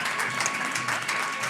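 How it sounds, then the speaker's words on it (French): Audience applause at an awards ceremony, a steady broadband clapping from a crowd that holds evenly for a second and a half with no talk over it. "On les applaudit bien fort."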